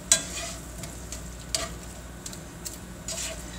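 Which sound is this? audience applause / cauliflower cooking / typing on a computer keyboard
cauliflower cooking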